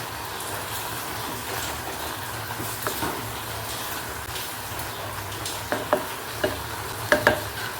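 Curry leaves tossed into a hot pan of cooked coconut, stirred and sizzling with a steady fry hiss, a few sharp spoon scrapes and clicks toward the end, no talking.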